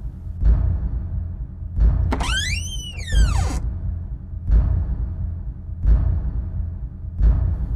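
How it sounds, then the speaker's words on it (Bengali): Loud, close bangs on a window repeat at a slow, even pace in a cartoon ghost story, five or six heavy thumps in all, with a rising and falling whoosh effect partway through. "তখনই জানালা ধাক্কানোর শব্দ হলো। কেউ যেন খুব জোরে জোরে জানালা ধাক্কাচ্ছে।"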